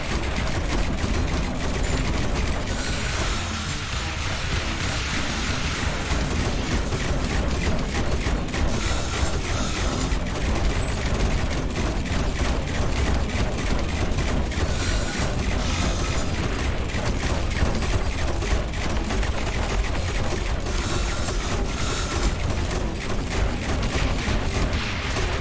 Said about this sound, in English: Why are there missiles flying over here?